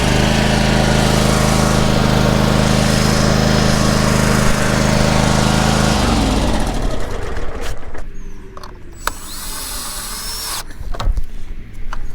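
A Toro lawn mower fitted with a new starter runs loudly with a steady droning hum for several seconds, then shuts off, leaving quieter clicks and faint background noise.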